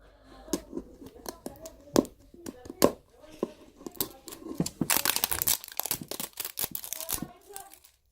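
Plastic LOL Surprise doll packaging being torn and unwrapped by hand, giving repeated close crinkles and sharp rips that thicken into a busy burst of crackling midway, with a person speaking softly between the sounds.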